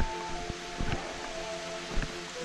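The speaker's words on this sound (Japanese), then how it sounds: "音が聞こえてきました。 滝の音" Ubagataki waterfall on the Kii Peninsula in a low-water season, heard as a steady broadband rush of falling water with a few faint knocks and bumps in the foreground. No voices.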